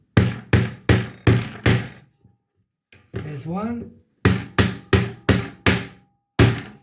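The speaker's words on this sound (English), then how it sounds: "Just while we hammer that in, you want it on a fairly solid surface." A hammer drives nails into the neck of a homemade diddley bow on a solid surface, landing sharp, loud, close blows in two quick rhythmic bursts. A brief spoken remark falls between the bursts.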